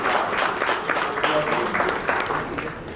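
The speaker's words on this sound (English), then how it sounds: "A big round of applause for you." Guests at a talk show on international education give a lively round of applause as someone is welcomed onto the floor, a close, continuous patter of clapping with voices faintly mixed in.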